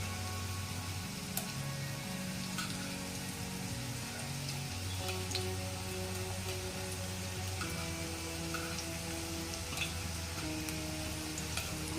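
Taro leaf vadi frying in a pan, a soft, steady low sizzle with faint occasional ticks and clinks, quiet and continuous with no talk.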